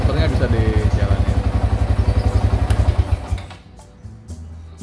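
A Yamaha Byson motorcycle engine runs with a loud, rapid, even thumping close by, then cuts out near the end, leaving quieter clicks and a person talking.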